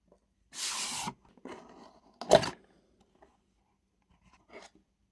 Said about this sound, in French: On va le déballer, le découvrir ensemble.